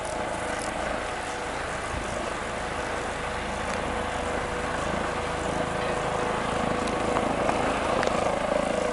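Helicopter touching down on a mountainside, its steady rotor and engine drone filling the scene at a constant, fairly close level throughout, with no talking.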